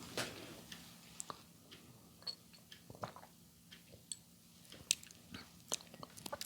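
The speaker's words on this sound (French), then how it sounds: "je vais boire un peu d'eau parce que j'ai la gorge un peu desséchée" Faint, close mouth sounds of someone sipping and swallowing water, with soft scattered clicks and small wet noises over a quiet room; no talking.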